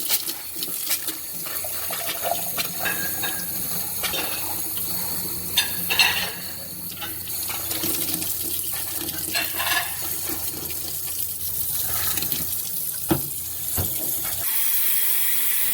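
Hot water runs from a faucet while a household water heater is flushed, a steady splashing stream into a sink with occasional clunks and gurgles before it settles.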